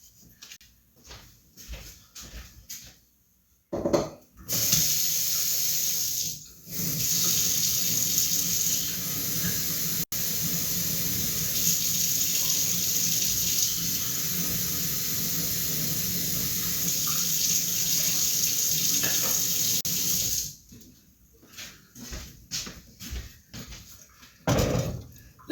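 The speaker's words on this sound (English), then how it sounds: "Then you add 2 cups of water." Tap water runs steadily into a pan holding jello powder for about sixteen seconds, loud and continuous, with kitchen clatter and brief sounds before and after.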